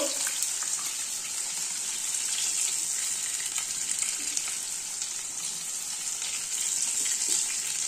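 Steady, hissing sizzle of bhola fish frying in hot oil, continuous and fairly close, with no voices.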